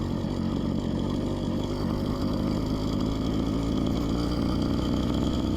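Phantom 85 minibike engine running loud and steady, a continuous close buzzing drone that holds even with no letup throughout.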